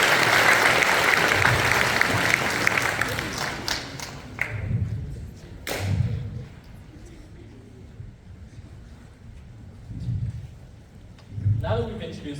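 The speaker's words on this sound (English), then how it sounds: "please give a round of applause for all of our committee heads this year" Loud applause fills a crowded hall at a student Vietnamese culture night as committee heads are honored, holding for about four seconds before fading into a quieter room with scattered talk and a few brief bursts of clapping.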